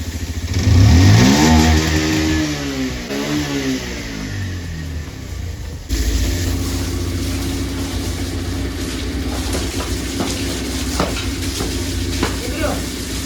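At a vehicle washing centre, an engine revs in gear with a rising and falling whine at first, then settles into a steady loud running drone mixed with spraying and hissing noise.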